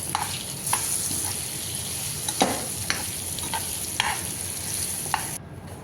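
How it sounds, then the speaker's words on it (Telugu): Four carrots and four potatoes fry in a pan for a village-style biryani, a close, steady sizzle broken by several sharp stirring scrapes and clinks. "4 క్యారెట్లు, 4 బంగాళదుంపలు ఫ్రై చేసేది చూడండి"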